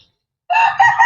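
Rooster crowing in a pen shared with hens, a single loud, close call that begins abruptly halfway through after a moment of silence and carries on to the end.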